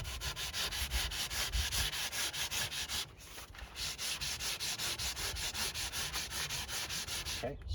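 Rhythmic back-and-forth rasping of 40 grit sandpaper on foam and fiberglass body shaping for a C8 Corvette, steady close strokes with a brief pause midway, no talk.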